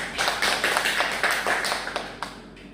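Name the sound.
classroom applause for a student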